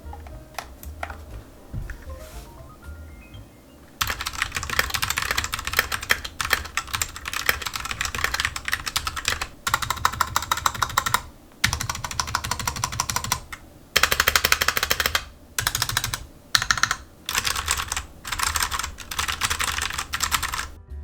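Rapid mechanical keyboard typing on a Royal Kludge RK68 with MX Brown switches, in bursts, dense clacking keystrokes with short pauses between runs, close and fairly loud, no talking.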